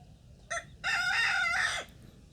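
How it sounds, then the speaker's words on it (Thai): A rooster crows nearby: a short clipped note, then one long, loud drawn-out call that tails off, with no talking. "เสียงไก่ขัน"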